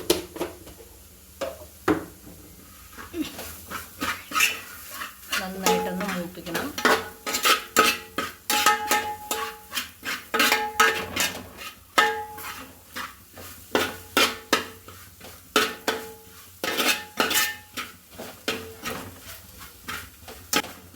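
Chilli powder and green chillies frying in a pan, with a utensil clinking and scraping against the metal in irregular bursts over a faint sizzle, close and clear.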